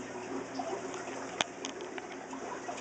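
Water and air bubbles from three air stones rising through an air-lift pipe in a brine shrimp hatchery, a quiet steady gurgling flow with one sharp clink midway.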